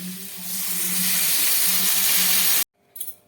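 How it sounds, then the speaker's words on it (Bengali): Water poured into a sizzling, well-fried Bengali curry in a pan on the stove, a loud, close rushing hiss and bubbling that holds steady for a few seconds before cutting off abruptly, followed by faint clatter. "এবার আমি এর মধ্যে দিয়ে দিচ্ছি পরিমাণ মতো জল।"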